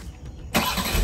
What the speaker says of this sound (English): One of the features that I love about this car is the remote start. So even if you're not in the car,